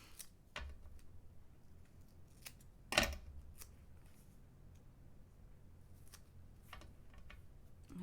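Scissors snip foam tape in a quiet craft setting, giving a few faint, sparse clicks and cuts, with one sharper snip standing out among them.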